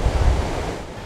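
Pacific Ocean surf rolling in at the border fence near San Diego, a loud, broad wash of breaking waves with wind buffeting the microphone, continuous and close, with no talking.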